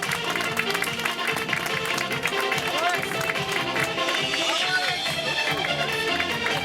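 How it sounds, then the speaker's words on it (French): Sustained crowd applause and clapping at a half-marathon prize-giving podium in Seurre, steady and fairly loud with cheering mixed in throughout. "un tonnerre d'applaudissements, le podium semi-marathon"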